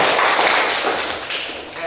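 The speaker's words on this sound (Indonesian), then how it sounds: "Tepuk tangan semuanya." Students in a high school classroom clap together after group presentations, a short, bright flurry of close-range hand claps at steady loudness lasting under two seconds.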